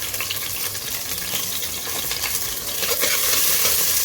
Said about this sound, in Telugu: లవంగీలు వేపుకున్న తర్వాత కొంచెం పచ్చిమిరపకాయలు,